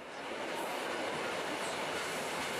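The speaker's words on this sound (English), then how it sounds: "Toot toot, as the train is coming out of the tunnel." A train rumbles as it comes out of a tunnel, with a steady, broad roar of moving rail cars that swells briefly at the start and then holds evenly, with no voices.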